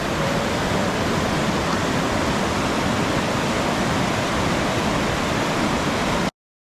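A river pours and rushes without letup on the way down Mount Roraima, close and loud, a dense even roar that cuts off abruptly near the end.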